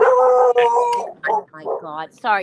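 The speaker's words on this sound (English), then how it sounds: "Oh, that's my dog. Stop it." A pet dog howls in long, wavering, pitch-bending calls close to the microphone while a person speaks briefly over it.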